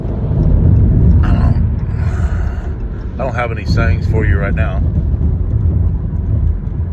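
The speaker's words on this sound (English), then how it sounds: "Man, this car is noisy. I'm sorry for all the road noise." Steady low road rumble from a moving car fills the cabin throughout, with someone talking over it in the middle stretch.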